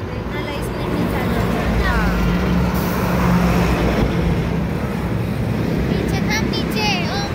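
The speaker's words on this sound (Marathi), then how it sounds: "गाड्या सगळ्या जाऊ द्या मग जाता येईल" Busy road with a steady stream of passing vehicles, a constant loud rumble with horn-like tones rising over it, and people talking nearby throughout.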